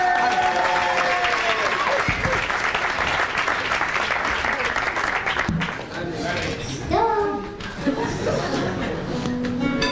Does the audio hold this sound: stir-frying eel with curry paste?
no